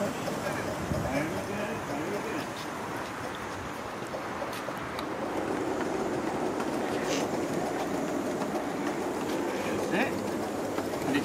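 A gauge 1 live steam model train runs on an outdoor garden railway, giving a steady rumbling rattle with clicking wheels that carries on continuously, while people talk over it.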